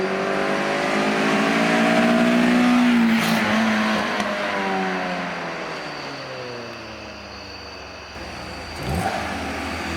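A car engine revs loudly, pitch climbing and falling through several surges, with a roaring exhaust throughout.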